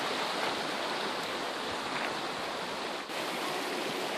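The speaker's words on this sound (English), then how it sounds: "That's the second point of access for the river back there behind me." A river flows behind a cottage in New Mexico, giving a steady, dense rush of running water that holds at an even level throughout, close and continuous with no voices.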